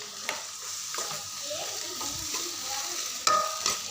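Onions sizzling in hot oil for a Kerala-style egg curry, a continuous close hiss with a few light spoon scrapes and taps against the pan.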